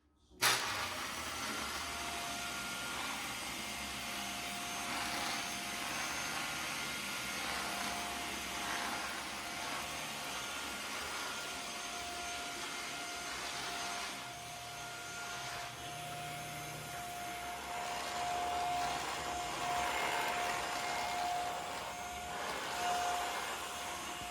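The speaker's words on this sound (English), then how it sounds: "a mattress cleaner, and it's got the UV light on it" A handheld UV mattress cleaner vacuum runs continuously with a steady, loud motor whine and airy rush, starting abruptly and holding for over twenty seconds with slight shifts in pitch and airflow. No voices are heard.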